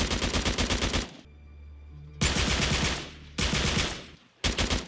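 Bursts of AK-47 automatic fire from a video game crackle in three long rapid strings separated by brief low hum, loud and close with no talking.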